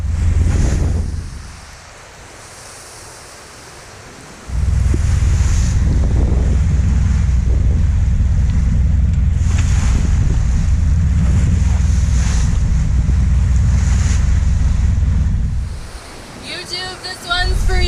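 Strong wind roars across the microphone and waves rush past a small sailboat with a 10-horse inboard diesel at sea. The gusts are loud and continuous, with a brief lull near the start and end.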